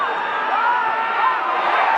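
Australian football crowd at Carrara during Gold Coast versus Collingwood, reacting to a missed kick with a steady, loud roar of cheering that holds for about two seconds.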